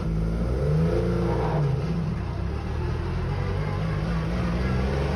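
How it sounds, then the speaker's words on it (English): A Metro 6R4 rally car pulls away on the road, its engine revving in a dense, rumbling roar that rises and holds steady, heard loud and close from on board, without speech. "There we go, out on the venture on the 6R4 with Ada behind the wheel"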